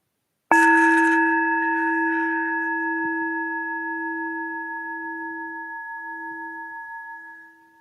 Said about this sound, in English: Simply follow the bell.